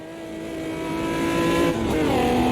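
Stock car engine in the racing game Automobilista 2, a loud, steady drone climbing in pitch as it accelerates, then a brief dip at a gear change before pulling again.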